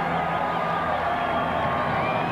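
Stadium crowd at a 1991 rugby league match between the Kiwis and France at Carlaw Park, a steady, dense roar of cheering throughout at constant loudness.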